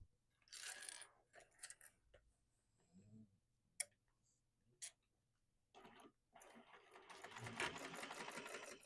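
A sewing machine bastes the opening of a sling bag closed, running in short bursts with pauses and clicks, then a longer steady stitching run at the end, close but fairly quiet.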